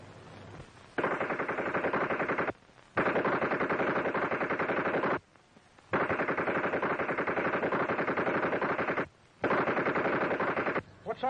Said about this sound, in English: Machine gun practice.